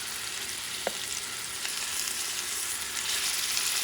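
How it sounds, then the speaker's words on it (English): Pork pieces sear in a hot pan for a pumpkin and pork stew, giving a steady, close sizzle and crackle that holds throughout, with a brief stir or clink near the start and no talking. "You're just trying to give them a nice looking sear in the outside."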